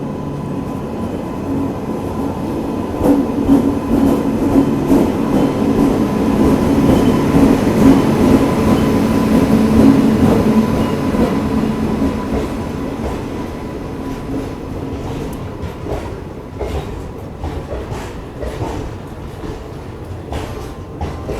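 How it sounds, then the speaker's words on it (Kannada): A Shivamogga–Yesvantpur overnight express train rumbles steadily, a loud low roar with rhythmic rattling of wheels on track, gradually easing off toward the end. "ನೋಡಿ ನಮ್ಮ ಟ್ರೈನ್ನ ಲೋಕೋಮೋಟಿವ್ ನೋಡೋಣ ಬನ್ನಿ."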